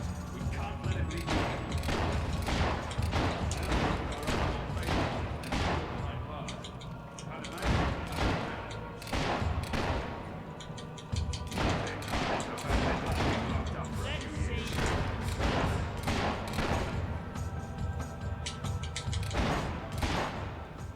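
Rapid gunfire from guards fighting inside a keep, dense continuous volleys and thuds filling the whole stretch, loud and close with no pauses.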